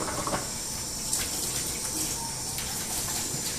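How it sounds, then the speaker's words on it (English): Running water from a sink tap splashes steadily while hands are washed with soap, a continuous close hiss with small shifts and spatters, no talking. "now she will go and wash her hands with soap and water"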